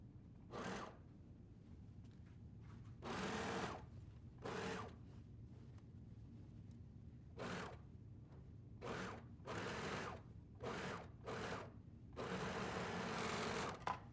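A sewing machine stitches coverall sleeves in a series of short and longer whirring runs separated by quiet pauses, fairly close and alone.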